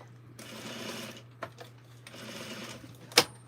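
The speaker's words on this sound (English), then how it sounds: "So I got my bobbin on the machine. The machine is on. So I'm gonna wind it." A sewing machine winds a bobbin in two short whirring runs, fairly faint and close, separated by a small click, with a sharp clack at the end and a steady low hum throughout.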